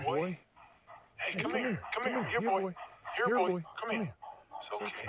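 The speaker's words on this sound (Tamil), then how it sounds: "ஆஹா நாய்க்குட்டி கிடைச்சிருக்கு, போடுங்க." Repeated high-pitched puppy yips and barks in quick bursts, fairly close and clear, with brief pauses between volleys, from the video game Into the Dead 2.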